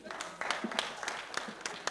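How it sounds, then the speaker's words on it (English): Audience at a live-streamed event in Nigeria applauding, a steady wash of many hands clapping with sharp individual claps standing out over about two seconds. "Please, can you clap for yourselves again?"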